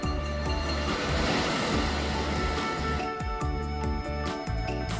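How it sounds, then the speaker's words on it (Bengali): Sea waves roar onto the shore at Chandpur in the evening, loud and close, a rolling broadband surge with heavy low rumble and rhythmic swells, alone without voices. "সঙ্গে সমুদ্রের গর্জন।"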